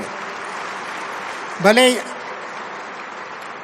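Sustained applause from an audience at a felicitation ceremony honouring Padma award recipients, doctors and scientists. The clapping is a steady, dense wash throughout, with a brief burst of speech near the middle.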